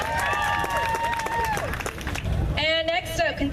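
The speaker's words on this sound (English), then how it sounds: "round of applause to Ivory Switchblade" Outdoor crowd at a hot rod car and bike show claps and cheers for a pin-up contest entrant, steady applause mixed with whoops and tonal shouts, fairly loud and continuous throughout.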